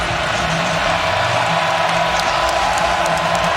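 Stadium crowd at a Tulane versus Ole Miss college football playoff game at Hemingway Stadium, roaring in a loud continuous wall of cheering and whoops, with no break across the stretch.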